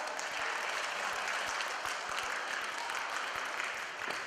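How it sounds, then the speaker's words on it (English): Steady audience applause fills the room after a stage-fighting demonstration, a continuous even patter of many hands clapping with a few sharper claps standing out, unbroken by talk. "Give yourselves a clap."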